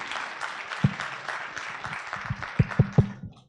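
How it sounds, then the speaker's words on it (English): An audience applauds at a white coat ceremony, a steady moderate wash of clapping with a few louder close claps near the end before it fades out. "Give him another round of applause."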